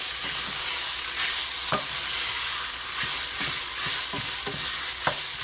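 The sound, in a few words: stirring fresh garlic frying in a pan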